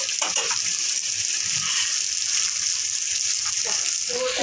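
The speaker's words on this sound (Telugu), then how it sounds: "అంటే నీళ్ళు వేసేస్తున్నా." Water is poured into a pot of drumstick chicken curry, giving a steady hissing gush and sizzle that runs loud and close through the whole stretch, with no talk over it.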